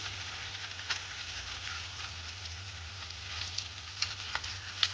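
Peanuts and cashews fry in oil with a quiet, even sizzle, broken by occasional small clicks and stirring taps, under a low steady hum.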